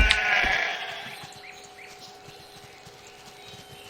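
Sheep bleating in the World of Warcraft video game, one clear bleat up front followed by softer bleats and light hoof steps, alone without talk.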